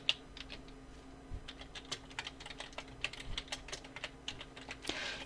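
Text being typed into Photoshop on a computer keyboard, a quick irregular run of light, close key clicks with brief pauses and a slightly heavier keystroke near the end, quiet with no talk.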